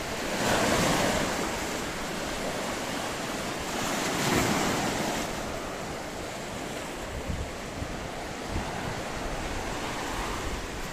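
Sea waves roll onto Atakum beach in Samsun during a shoreline fishing trip, a steady, loud wash of surf with swelling crests and gusts of wind rushing across the microphone throughout.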